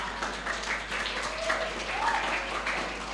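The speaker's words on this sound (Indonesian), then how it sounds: "Insya Allah tepuk tangan semuanya ya." Fairly faint, steady clapping from an audience at an Islamic cadre training session, a continuous patter of many hands over a low constant hum, with a few scattered voices mixed in.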